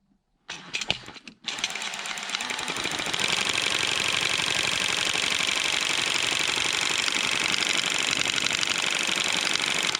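A John Deere A tractor magneto spun by hand, unhooked, gives a steady fast mechanical whir and rapid clicking that starts abruptly after a brief silence and runs loud and continuous to the end.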